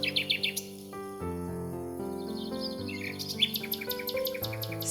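A little bird near a nest high in a forest tree chirps in quick high tweets over soft musical tones, fairly faint and close.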